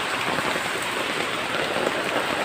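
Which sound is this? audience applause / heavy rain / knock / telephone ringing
heavy rain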